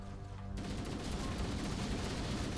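A grenade explosion and gunfire in Halo CE roar as a dense, continuous wall of booming blasts and shots, loud and close throughout, with a sudden swell of noise just after the start.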